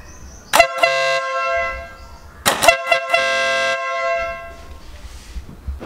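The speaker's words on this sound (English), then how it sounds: "hidden here is the Denali sound bomb horn along with the Denali harness" A Denali SoundBomb horn fitted to a Royal Enfield Interceptor 650 motorcycle blares in several very loud, close blasts, two long honks and shorter toots separated by pauses, with faint background rumble.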